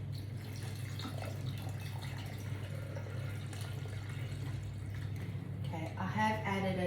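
A cup of water poured into a Thermomix while cooking chicken jalfrezi, a soft steady trickle and splash over a constant low motor hum, faint and close, with a brief louder rush near the end.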